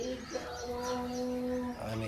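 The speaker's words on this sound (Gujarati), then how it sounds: "ચકલાને સેવો આપી દઈએ." Sparrows and crows gather to be fed seed on a morning at home, their chirps and calls overlapping, some tonal and drawn out, near and moderately loud with faint background noise.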